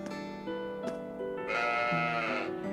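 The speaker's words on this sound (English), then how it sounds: "No, but we have got the sheep." Sheep bleat in the video game Trails of Cold Steel 4, a long sustained tonal call that swells and rises partway through, heard alone over steady game music with no talking.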